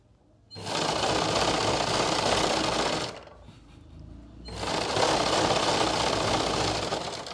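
A sewing machine stitches a salwar hem in two steady, loud runs of rapid mechanical whirring, separated by a short pause.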